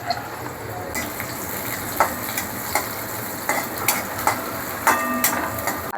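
Garlic sautés in hot oil in a pan, a steady close sizzle with occasional sharp utensil taps and stirring scrapes, and no voices.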